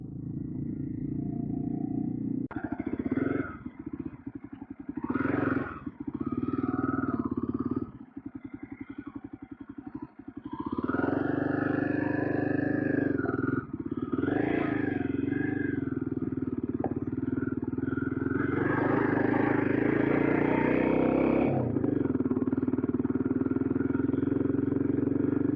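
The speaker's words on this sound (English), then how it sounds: "But for me, riding a moped," A moped engine drones steadily while riding on roads in Algeria. The engine pitch shifts as the throttle changes, with wind rush and some clattering over rough ground, and a voice speaks briefly.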